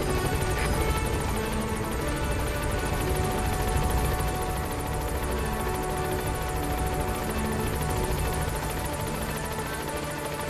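A helicopter in the Metal Gear Solid 5 video game hovers close with a steady, dense rotor roar and rapid chopping blade beat that stays loud and unbroken throughout, with no talking over it.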